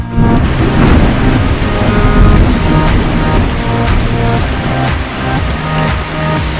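Heavy rain and a thunderstorm pour down over a toy farm scene, a loud and dense steady roar with deep rumbling underneath that keeps going without a break.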